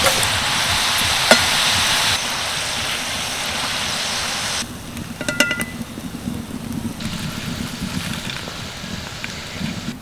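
Nimki, a Bengali fried snack, sizzles in hot oil with a steady hiss, loud at first and then quieter after a few seconds, with faint clinks partway through.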